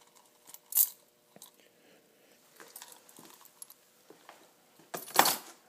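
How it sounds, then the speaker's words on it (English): Keys on a crowded key ring jangle in two clear bright bursts, one early and a louder, longer one near the end, with softer clinks and handling sounds between, close by and without talk. "You really don't even notice it's on a key ring, especially when you got a lot of keys on the ring like I do."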